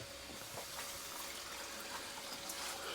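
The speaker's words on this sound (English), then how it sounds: "Water's still coming in, but slower than it's pumping out." Water keeps flowing into a pit while a pump draws it out, giving a steady, close rushing and trickling wash with no break throughout.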